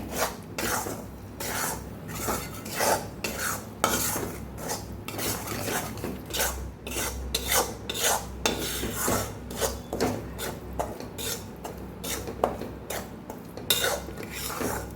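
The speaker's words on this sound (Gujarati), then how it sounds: "હજી આપણે થોડી વાર શેકવાનો છે લોટને." Flour roasting in a pan for Kathiyawadi shiro, stirred with a utensil that scrapes and rasps in quick irregular strokes against the pan, close and continuous throughout.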